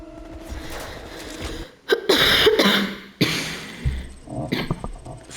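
A loud, harsh cough bursts out close by, followed by rougher throaty fits and a few sharp breaths.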